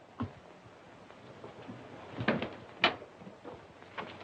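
A house door opens in an old period home, heard as a few sharp clunks and knocks standing out over quiet room tone.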